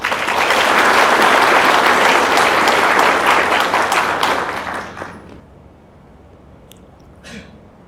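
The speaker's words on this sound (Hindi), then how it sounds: "ताली तो आपने बजा दी" Dense applause from a large audience at a spiritual gathering rolls loud and steady for about five seconds, then fades quickly into a quiet room with a few stray claps.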